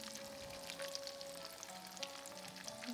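Mushroom nuggets fry in oil over lowered heat, giving a steady, dense crackling sizzle with scattered pops that runs unbroken throughout, close and moderately loud, with no talking.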